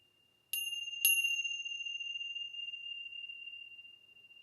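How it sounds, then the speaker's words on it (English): Two clear bell strikes in a quiet sound bath, about half a second apart, each leaving a long pure ringing tone that slowly fades into silence. "As you hear these bells"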